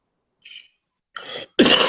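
A couple of short coughs, the last one loudest, close to the mic, after a faint high chirp in otherwise near silence.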